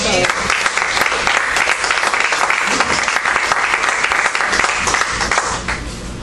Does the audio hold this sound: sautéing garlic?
no